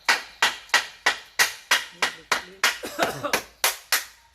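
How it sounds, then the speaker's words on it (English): Steady hammer blows on a mold for concrete columns strike about three times a second, sharp and close, each ringing briefly before the next hit. "little bit of hammering."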